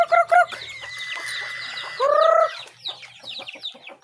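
Several chickens cluck and squawk nearby in short bursts, with one drawn-out, crow-like call rising above the others, over quiet background chatter.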